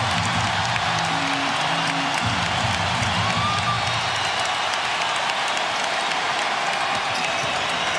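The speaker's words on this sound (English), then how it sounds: "And most of the crowd on its feet cheering on their Rockets" An arena crowd at a 2009 Lakers vs Rockets playoff basketball game cheers on the Rockets in a loud, continuous roar of voices that fills the space, with no clear breaks.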